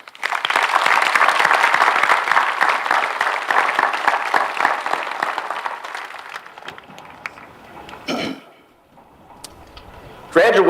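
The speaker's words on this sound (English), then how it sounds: "Let's give these remarkable educators a round of applause." Audience at a high school graduation commencement gives a sustained round of applause, dense and loud for several seconds before thinning out, followed by a speaker's voice resuming.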